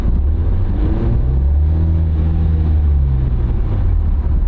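A car engine accelerates up a hill with a misfire in cylinder number 3, giving a steady, loud, close drone that rises slightly in pitch and runs a bit rough.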